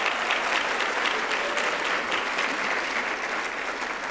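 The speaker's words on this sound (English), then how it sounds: "Give yourselves a round of applause" Steady, dense applause from a convocation audience of 2019 graduates, sustained at full level throughout with no voices over it.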